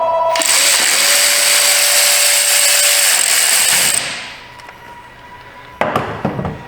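Power tool driving a 10 mm socket on bolts during a 2016 Honda Pilot GDI fuel injector replacement, a loud whining buzz for about four seconds that cuts off, then a brief metallic clatter.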